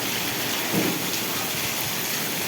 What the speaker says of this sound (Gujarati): ધોધમાર વરસાદ મિની વાવાઝોડા સાથે વરસાદ